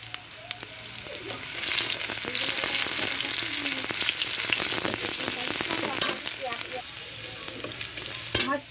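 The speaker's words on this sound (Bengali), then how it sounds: "তেল গরম হয়ে গেছে, এবারে আমি পেঁয়াজ কুচি দেবো। দুটো শুকনো মরিচ দিলাম।" Chopped onion and dried chilies fry in hot oil, a dense, continuous loud sizzle with scattered crackles and occasional stirring scrapes, close by.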